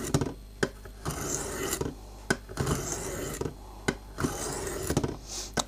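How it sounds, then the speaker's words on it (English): A knife is drawn across the stone of a WorkSharp guided sharpening system in repeated rasping strokes. The gritty scrapes are close and rhythmic, each separated by a sharp click as the blade is reset. "We place a knife and then we just take like 10 strokes, not too hard, and just follow the guiding angle."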